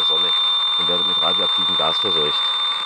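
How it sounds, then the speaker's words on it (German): A military Geiger counter sounds its alarm: a loud, close run of short buzzing beeps in an uneven rhythm over a constant high electronic whine. "Moment, ich muss mal den Alarmton ausschalten."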